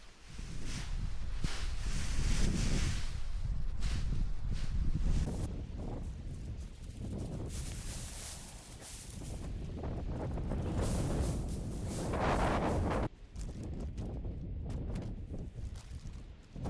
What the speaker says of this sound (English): It was so windy that day that it felt like the leaves are just going to blow away.